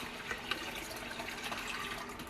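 Kombucha pours into swing-top bottles in a steady, soft stream with faint gurgling and a couple of light taps, quiet and close, without any speech.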